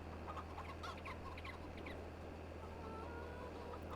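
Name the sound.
chickens clucking in Farming Simulator 22 video game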